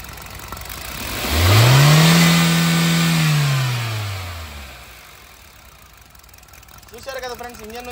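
A Hyundai car engine catches after a single press of the self-starter, revving up loudly for a few seconds, then easing back toward a quieter idle, with a brief voice at the end.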